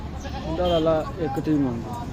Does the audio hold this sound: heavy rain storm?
no